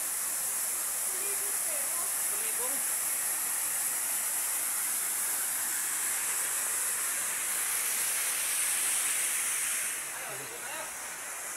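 Kalibong Falls in San Nicolas, Pangasinan, pours as a steady, dense roar of rushing water that fills the whole span, with faint voices under it and a slight drop in level near the end.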